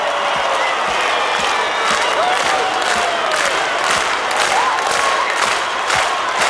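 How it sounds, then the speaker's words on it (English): A concert crowd at a show roars with continuous cheering and clapping, a steady wash of crowd noise with occasional whistles rising above it. "So everybody put their hands up for me."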